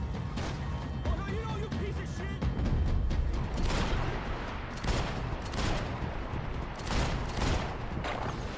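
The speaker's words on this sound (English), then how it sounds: "Gunfire over Hoboken." Gunfire in the video game Max Payne 3 on PC, bursts of repeated shots and crashing impacts over several seconds, with a voice talking in between.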